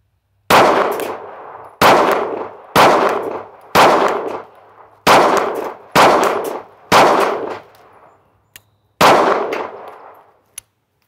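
Sig Sauer P365 pistol firing Remington UMC rounds, eight loud, close shots in an uneven string with short gaps, each with a ringing tail, plus a couple of faint clicks near the end.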